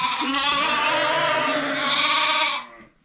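Lambs bleat loudly and continuously at close range on a farm, a single sustained wavering cry that cuts off abruptly near the end.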